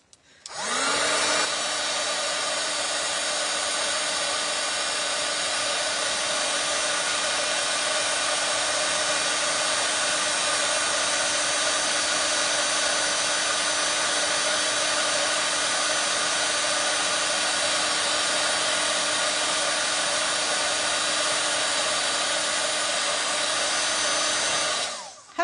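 A handheld heat tool used for embossing paper labels runs continuously, a loud steady fan-driven whoosh with a constant hum that starts abruptly, holds unchanged for about twenty-four seconds, then cuts off.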